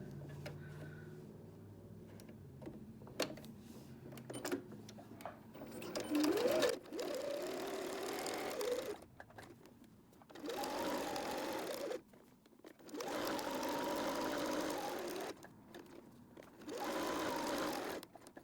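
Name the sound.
sewing machine stitching a needle book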